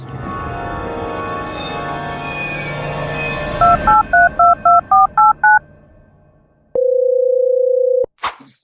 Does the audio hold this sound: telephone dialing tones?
yes